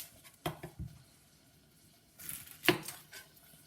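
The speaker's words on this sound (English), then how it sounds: "Now we're going to just get a little bit of red onion. We're going to shave this guy down just as well." A knife shaving down a red onion for salad on a board, a few sharp, separate cuts and taps, fairly close and quiet, with gaps of near silence between them.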